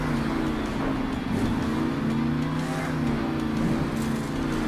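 Monster Mutt, a monster truck styled as a dog, runs its engine in a loud, continuous, close drone, the pitch wobbling slightly up and down as it revs.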